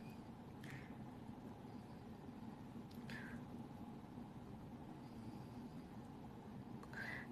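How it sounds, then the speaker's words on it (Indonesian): A cat meowing indoors, three short, faint meows spread a few seconds apart over a low background hum, with no talking. "Sentuh kucing."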